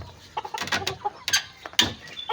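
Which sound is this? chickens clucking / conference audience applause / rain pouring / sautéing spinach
chickens clucking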